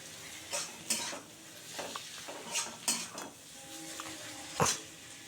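Stir-frying egg and yardlong beans for a curry in a pan gives scattered spatula scrapes and taps over a faint sizzle, spaced irregularly and heard up close but quietly, with no voices.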